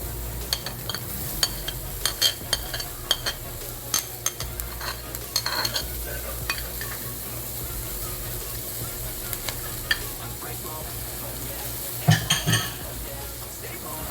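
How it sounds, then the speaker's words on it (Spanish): Rice frying in a pan as chopped onion and chiltoma peppers are tipped in and stirred, with a steady sizzle, scraping and clinks of the utensil against the pan, and occasional sharper knocks. "como ya está bien frito el arroz, procederemos a echar la cebolla y la chiltón"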